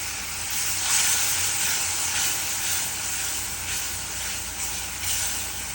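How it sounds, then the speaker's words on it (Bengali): Dried chepa shutki fish simmering in a pan after a splash of hot water, giving a steady, loud, continuous sizzle and hiss with faint stirring, no voices. "সামান্য একটু গরম পানি দিয়ে নিচ্ছি যাতে চাটা শুক্তিটা ভালো মতো সিদ্ধ হয়ে যায়"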